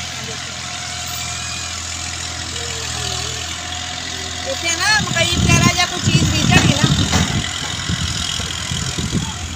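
A tractor engine runs steadily on a village farm in Punjab, a continuous mid-low drone that swells louder midway, while a person talks over it.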